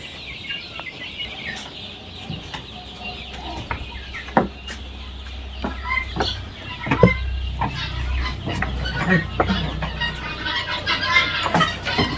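Tiger chickens clucking at a poultry farm, soft intermittent calls over a steady background hum, with scattered clicks and knocks throughout.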